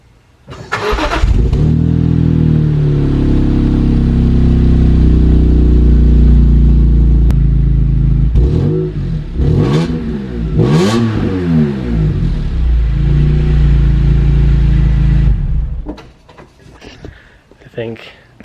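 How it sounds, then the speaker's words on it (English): BMW engine cold-starting with a crank and catch, then idling loudly before several sharp revs rise and fall close by, settling back toward idle near the end. "let me just do the cold start on it"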